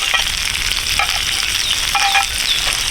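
Ribeye steak and shrimp sizzle on a hot griddle plate in an Ooni Karu oven, with a dense, continuous crackle close by and no one talking.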